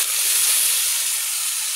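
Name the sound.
water added to hot pan, sizzling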